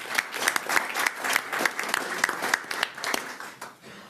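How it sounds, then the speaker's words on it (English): Audience at a public board of trustees meeting clapping for honorees, a steady round of individual hand claps with distinct near claps, rising and then tapering off over a few seconds. "let's give them a round of applause and wish them good luck"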